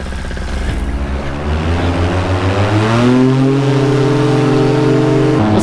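A paramotor engine and propeller run up during launch, a close, loud drone whose pitch climbs steadily as the throttle opens, then holds high and steady.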